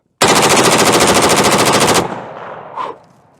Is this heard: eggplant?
no